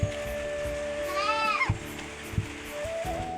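A goat kept indoors during rain gives one clear wavering bleat in the middle, with a few knocks and a steady rainy background around it.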